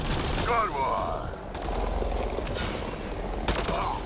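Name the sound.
gunfire from Mass Effect: Andromeda video game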